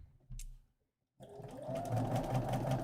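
A sewing machine stitches fabric: a brief click and pause, then a steady close-up whirring run that carries on to the end.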